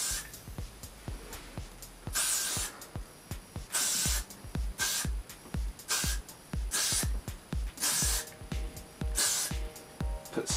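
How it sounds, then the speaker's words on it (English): Repeated short bursts of hairspray hiss onto hair in quick succession, some longer blasts among rapid puffs, close and loud with no talking. "But I am gonna like spray it back because he's got it all slicked back."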